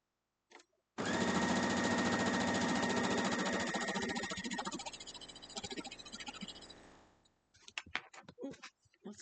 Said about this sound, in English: So we're going to go sew this up.